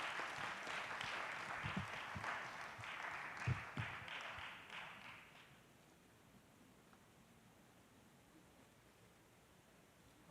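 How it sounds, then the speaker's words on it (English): Audience in a city council meeting chamber applauding young people, a faint, steady patter of many hands that carries for several seconds, then fades out, leaving quiet room tone. "Let's give these young people a big round of applause."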